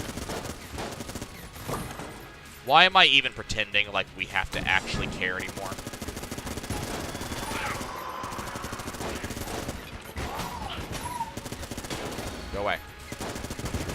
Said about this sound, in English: Just pull out the Vulcan cannon.